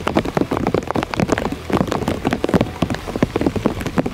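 Heavy rain drumming on a fishing boat on the Rio Negro in the Amazon, a dense, close patter of drops hitting the deck and roof continuously, with no voices.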